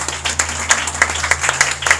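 Congregation at a church sermon claps for the pastor in a loud, rhythmic beat of roughly three claps per second, over a low steady hum.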